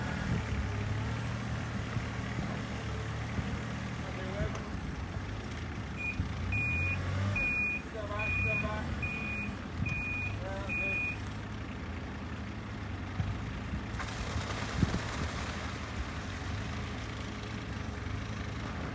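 A concrete lorry moving down a narrow lane to a workshop site gives a run of about six regular reversing beeps over a steady engine rumble, at moderate distance, with no talking.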